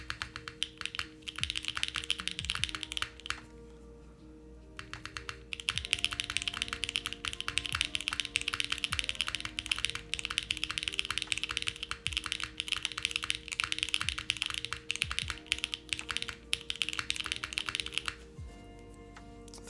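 Fast continuous typing on an Arc60 mechanical keyboard with PBT keycaps: dense, close clacking that pauses briefly early on and then runs steadily, with no talk.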